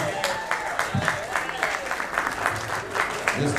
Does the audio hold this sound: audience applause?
yes